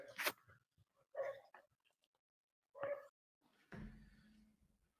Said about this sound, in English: Got the dogs around there.